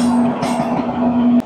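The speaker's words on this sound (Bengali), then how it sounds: "629 কিলোমিটার পথ চলা শেষ করে আমাদের ট্রেন এই মুহূর্তে এসে পৌঁছেছে তার যাত্রাপথের 7ম স্টেশন উত্তরপ্রদেশের কানপুর সেন্ট্রাল" Sealdah Ajmer Express train pulling into Kanpur Central station in Uttar Pradesh: a steady low mechanical hum with a faint sustained tone, close and fairly loud, ending with a sharp click.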